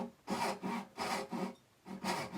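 A hand saw cuts wood for a hinged wooden box in slow, deliberate rasping strokes, about six close, even back-and-forth passes with short pauses between them. No talking.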